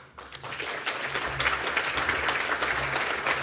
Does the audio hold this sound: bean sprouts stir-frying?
no